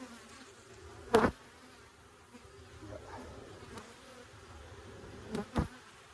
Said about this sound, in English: This hive doesn't have a lot of bees in it.